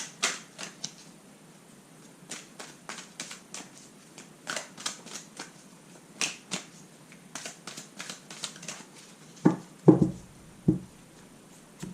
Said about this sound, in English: I cut the cards 3 times to the left.